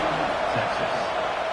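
A stadium crowd buzzes at a football game with a steady, dense roar, while an announcer's voice carries over it throughout.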